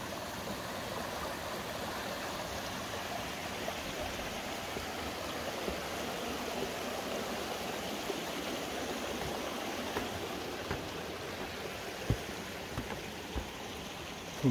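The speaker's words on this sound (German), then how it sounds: "Und da hier schon das erste schöne Brückli, wo ich diesen Bach überqueren kann." A small brook flows under a little footbridge on a hiking trail in the Emmental countryside, a continuous close rushing burble with faint clicks and knocks toward the end.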